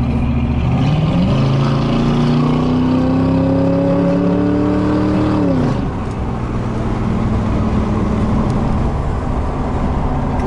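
A 1964 Chevrolet Impala with a 327 V8 revs up through rising engine pitch for several seconds, then drops back to a steady, loud cruising rumble.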